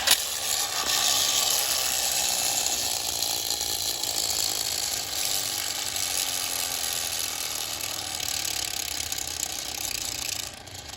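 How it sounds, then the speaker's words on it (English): A Kenner Hasbro ripcord flywheel toy spins with a continuous buzzing, ratcheting whir like a small motorcycle engine, close and steady, slowly fading as the wheel winds down. "you'll notice this thing actually almost kind of has a motorcycle sound to it"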